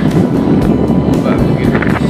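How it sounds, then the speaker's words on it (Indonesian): Strong west wind and large waves crash at a beach in Paciran, Lamongan, a loud continuous roar with rough buffeting against the microphone. "begitu besar ya, angin terlalu kencang."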